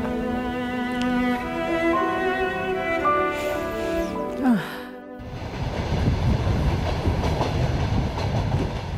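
A moving passenger train in Russia, first a steady rolling hum with a squealing tone, then a louder broadband rush of wheels clattering on the rails, close and continuous without speech.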